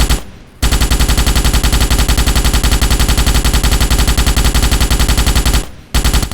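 Morita Mark II rifle in the Starship Troopers video game firing in long sustained automatic bursts, loud and rapid, with a short gap at the start and another near the end.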